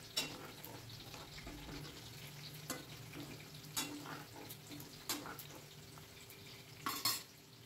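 Chicken pieces frying slowly in a pan over low heat, with a steady soft sizzle, occasional stirring scrapes and utensil clinks against the pan, fairly faint and without talk.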